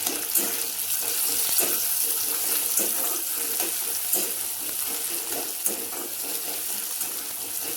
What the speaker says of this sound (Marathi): कांदा चांगला भाजला आता टोमॅटो टाकते